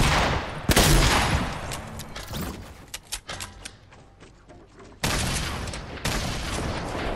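Grenade blasts and gunfire in the video game Fortnite, a loud broadband burst near the start, then scattered sharp cracks and pops, with two more heavy blasts around the end, no voices.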